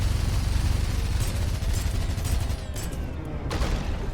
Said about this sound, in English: Just keep firing, Private.